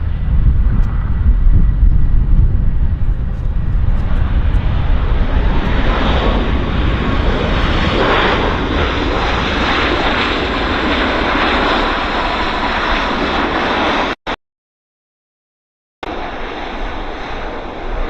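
Airliner taking off at Vancouver airport on a smoky day, its loud, broadband engine roar holding steady and close for about fourteen seconds before a brief dropout, then resuming.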